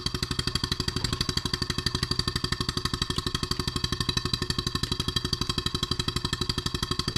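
Stuart 7A model steam engine driven by compressed air at 12 psi, turning about 360 RPM: a steady, fast, even chuffing beat close by, loud and continuous with no talk.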